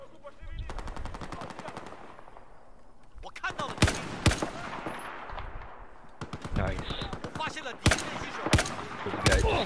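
In Battlefield 4, loud rapid bursts of automatic gunfire alternate with single sharp shots in an uneven rhythm, with voices chatting in the background.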